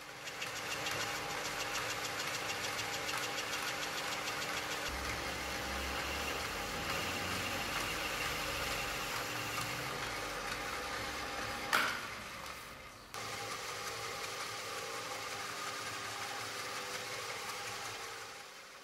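A metal lathe runs as a homemade turning tool cuts the workpiece, giving a continuous close mechanical drone with a brief clatter partway through, no voices.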